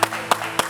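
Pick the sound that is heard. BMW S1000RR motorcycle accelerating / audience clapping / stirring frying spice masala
audience clapping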